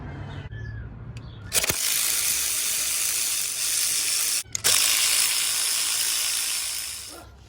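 A ratchet wrench loosens 10 mm ground bolts for the fuel injectors during cylinder head removal on an engine with a blown head gasket. It gives two long, close bursts of rapid clicking separated by a brief pause.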